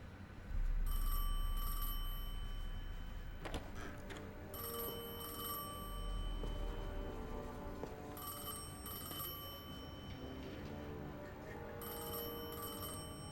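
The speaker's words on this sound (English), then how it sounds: "I felt the ringing more than I heard it." A telephone rings inside the Destiny 2 video game, its electronic bell sounding in repeated bursts over a low rumbling ambient drone, with sharp transient hits scattered between the rings and no talking.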